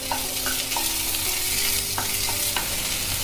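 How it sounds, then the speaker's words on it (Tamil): Chopped cluster beans sautéing in hot oil, a steady close sizzle and frying hiss with a few soft stirring clinks spaced through it, no voices. "எண்ணெய் காஞ்சுடுத்து இந்த கொத்தரங்காயை அப்படியே அதில் போட்டுக்கலாம்."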